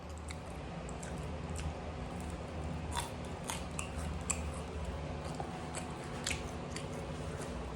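Crispy air-fried soya chunks being bitten and chewed up close, a run of crisp crunches and small crackles at an irregular rhythm, fairly quiet with no talking.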